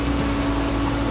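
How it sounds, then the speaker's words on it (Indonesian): A Toyota Vios Gen3 limo engine idles smoothly with a steady, even low hum and a faint constant tone, close by and alone. "Suaranya juga halus ya, suara mesinnya."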